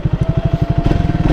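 A Triumph Thruxton 400 motorcycle idles close by with a loud, even, rapid thumping pulse that rises slightly in pace near the end.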